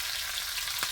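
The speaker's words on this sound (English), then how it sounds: "So I'm going to add the onions here." Onions land among bacon frying over medium-low heat in a pan, making a brief, steady crackling sizzle that is close and fairly loud.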